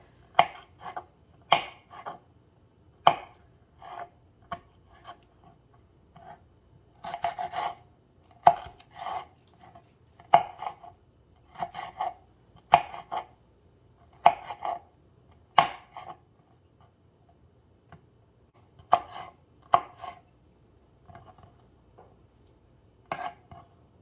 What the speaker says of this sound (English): we have those tomatoes all diced up